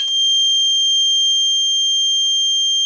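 A Simplex fire alarm device sounds a loud, continuous high-pitched electronic tone during a system test, steady throughout with faint background clatter.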